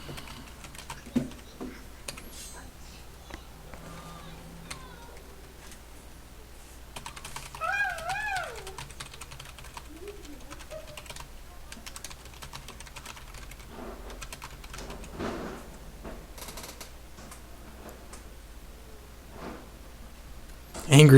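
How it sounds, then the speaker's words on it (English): Fast, steady tapping of a computer keyboard runs throughout at moderate level, with occasional game sounds and chimes layered over it. "Angry typing. That's just how I type."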